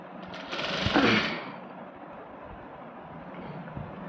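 A sewing machine whirs as it stitches along the folded side edge of a saree, a brief louder run of mechanical rattling followed by a steady, lower-level hum close by.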